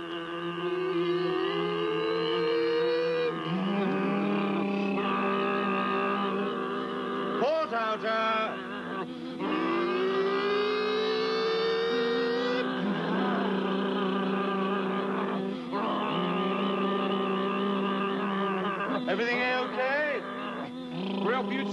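Aircraft engines, starboard inner then starboard outer, start up one after another. Each rises in a whining, climbing pitch into a sustained loud drone, with voices speaking over the running engines.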